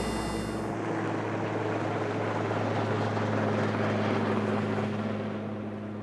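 A helicopter's rotor and turbine drone steadily and loudly, a continuous low throbbing hum with a constant tone.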